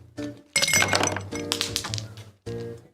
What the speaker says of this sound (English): fill a tall glass with ice